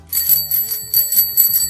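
A loosened vintage bicycle bell rings in four close, loud bursts of rapid metallic trilling, each with a slightly rattly edge and short gaps between.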